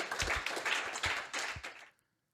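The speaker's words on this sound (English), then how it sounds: "let's give them a round of applause" A short burst of clapping on a podcast, a handful of people applauding for a couple of seconds, close and fairly dense before it cuts off abruptly into silence.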